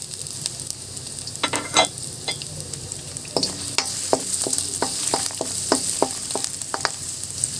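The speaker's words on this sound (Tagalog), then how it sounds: "So, ngayon ay sisimulan na natin maggisa ng ating mga simulan natin sa bawang." Garlic sautéing in a pan for a tofu and bean sprout dish gives a steady sizzle, punctuated by sharp clicks and scrapes of stirring, close and without talk.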